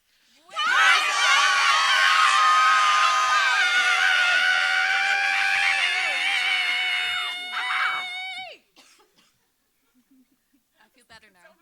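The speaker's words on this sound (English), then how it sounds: "when I do 3, 2, 1, we're all going to scream our frustration" A concert audience screams together in frustration, a loud, sustained roar of many voices for about eight seconds that cuts off sharply and is followed by near silence and scattered faint sounds.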